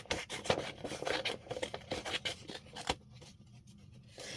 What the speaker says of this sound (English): just the noise of like these scissors